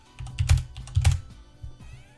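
Fingers tap a computer keyboard in a short, close burst of clicky keystrokes, a few quick clusters of presses with slight pauses between them, no voices.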